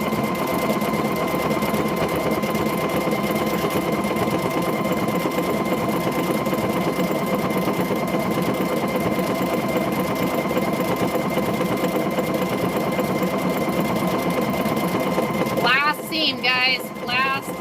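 A sewing machine stitching a car seat cover runs steadily at high speed with a constant whirring drone, close and loud, before stopping abruptly; a voice speaks briefly at the end.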